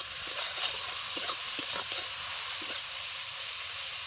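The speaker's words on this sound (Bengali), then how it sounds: "এবার একটু অল্প পরিমাণে লবণ দিয়ে দেবো যাতে টমেটো আর পেঁয়াজটা ভেজে যায়" Onions and tomatoes sizzle and fry with salt in a pan, with a steady hiss broken by several soft scraping strokes as a utensil stirs them, heard close and without talk.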